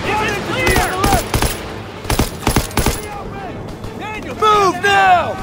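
Machine gun fire in a Call of Duty battle at Hill 493, loud close bursts of rapid shots in several clusters, mixed with shouted voices of soldiers between the volleys.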